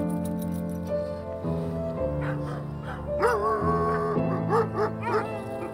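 Several sled dogs of an Indigenous mushing team bark and yip in excited, overlapping bursts, close and loud, with some whines rising between the barks.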